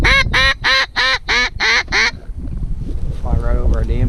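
Mallard ducks quack in a snowstorm on big water, a fast run of seven loud, evenly spaced quacks close by, then quieter softer calls over steady wind noise.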